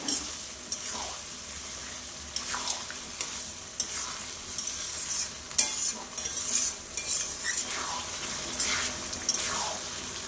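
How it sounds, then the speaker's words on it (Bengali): Mutton with spices being stirred and fried in a pot, with steady sizzling and repeated scraping strokes of a spoon close by, no talk. "দেখো আমি এখন মাংসটা আস্তে আস্তে কষিয়ে নেব খুব ভালো করে।"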